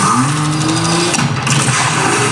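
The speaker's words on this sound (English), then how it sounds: "The 3-liter twin-power turbo inline 6-cylinder engine, 382 horsepower, 369 pound-feet of torque" A car with a 3-liter twin-turbo inline six-cylinder engine making 382 horsepower revs loudly and steadily up close, with a dense engine roar that never lets up.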